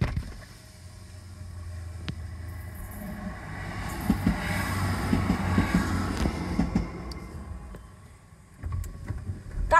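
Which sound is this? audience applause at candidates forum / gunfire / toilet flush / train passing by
train passing by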